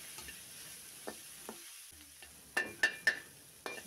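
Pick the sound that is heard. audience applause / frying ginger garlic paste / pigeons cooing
frying ginger garlic paste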